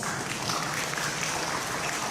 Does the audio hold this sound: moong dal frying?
no